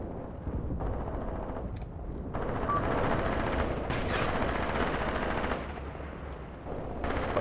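Tank cannon and machine-gun fire in a Graviteam Tactics battle on the Luga Line with Panzer IVs, a dense, loud, continuous roar of rapid gunfire and rumbling that swells midway and keeps going without talk.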